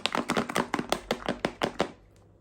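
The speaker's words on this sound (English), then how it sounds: "Just gonna stir that in there." A spoon stirs ingredients inside a Ninja Creami pint container, knocking and scraping in about nine quick, even strokes before stopping abruptly.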